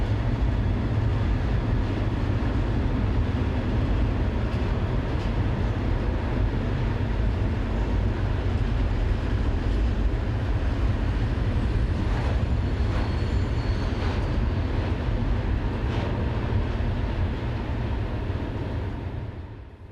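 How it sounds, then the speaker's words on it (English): A Class 151 locomotive departs hauling a long intermodal freight train in the early evening, giving a loud, steady low engine drone and rolling rumble that holds for the whole stretch before easing off at the end. "One 15151 has coupled onto its train and departs at just after 7 p.m."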